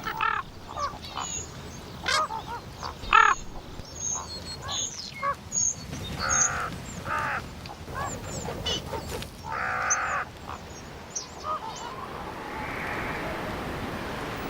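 Scattered harsh calls and croaks of common ravens ring out in an open outdoor setting near a sheep carcass, several short caws spread across the stretch with steady background noise.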